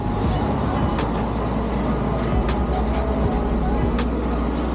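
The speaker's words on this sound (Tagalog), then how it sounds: "Malakas yung ugong ng truck, ano?" A truck rumbles steadily near a workplace motorcycle parking area, a constant loud low drone running through the whole stretch with brief sharper knocks over it and no talk.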